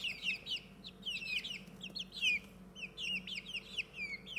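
Young chicks peep and cluck in quick overlapping high chirps, a small brood chattering close by in a continuous busy stream.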